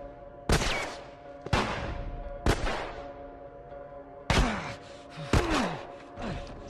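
Pistol gunshots in the video game The Last of Us: five loud, sharp single shots at irregular intervals, each with a ringing decay, close and clear with no talk over them.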